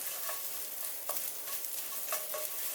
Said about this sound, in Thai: พริกแกงเขียวหวานค่ะพี่น้อง ผัดให้มันหอมนะคะ